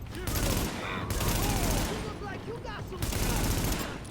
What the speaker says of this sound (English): he is a heavy machine gunner, which means he has the ability suppression fire, which is where he just freaking blasts you like those tracer bullets